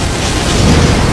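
A boss's fiery explosion attack in Elden Ring, a loud, dense roaring blast that fills the whole moment, with no speech.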